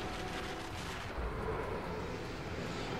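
Explosions from gas canisters being shot in the video game Resident Evil 6, a dense continuous rumble of booming blasts and gunfire-like bursts running throughout with a heavier swell midway.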